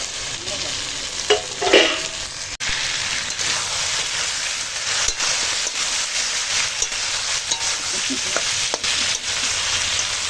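Potato, tomato and green chili frying together with already-fried onions in a pan: a steady, dense sizzle throughout, with a louder stirring burst near the start and occasional small crackles.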